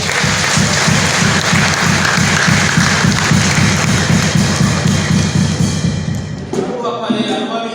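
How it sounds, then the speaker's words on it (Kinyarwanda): Loud, sustained applause from a crowd at a Rwandan church wedding ceremony, steady rhythmic clapping for about six seconds before it fades and a voice begins speaking. "Amashyi menshi cyane."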